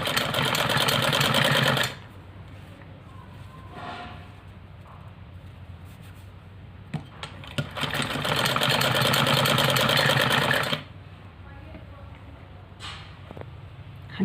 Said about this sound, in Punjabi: ਫਰੈਂਡਸ ਆਪਾਂ ਪੂਰੀ ਸਲਾਈ ਆ ਜਿਹੜੀ ਲਾ ਲਈ ਆ